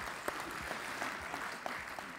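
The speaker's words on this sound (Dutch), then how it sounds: "Dames en heren, applaus voor Fred" Applause from a debate audience at a provincial election event in Overijssel, a steady dense patter of clapping through the whole stretch, fairly distant and even, with no voices over it.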